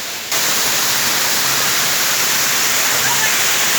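Tham Soda waterfall in Roi Et, Thailand, a loud, steady, close roar of falling water that starts abruptly and holds without a break.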